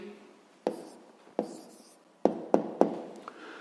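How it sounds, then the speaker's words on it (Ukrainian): A pen writes out the answer to a math equation by hand: a handful of sharp, close scratching strokes and taps over quiet room tone. "Записуємо відповідь."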